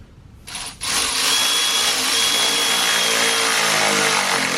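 A power tool tightens bolts on a Ford Fiesta ST, a brief whir followed by a loud, continuous high-pitched buzzing run close up with no pauses.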